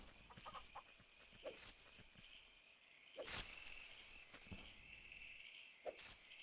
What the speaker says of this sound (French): J'ai entendu ma poule crier,